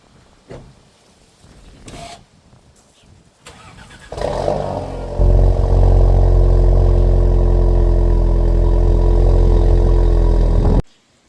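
An Audi A4 B9 cranks and fires right after a battery replacement, with clicks and a short whir before the engine catches. It then settles into a loud, steady, close idle that cuts off abruptly near the end.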